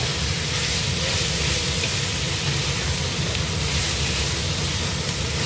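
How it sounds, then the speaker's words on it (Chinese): Wood ear fungus stir-fries in a wok with spring onion and oil, a loud, continuous close sizzle and hiss that stays even throughout, with no talk. "把50克的木耳 下锅翻炒"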